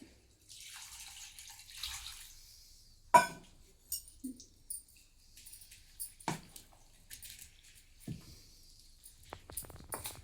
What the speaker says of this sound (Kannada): ನೀರು ಹಾಕಿ ಕಲಿಸ್ಬೇಕು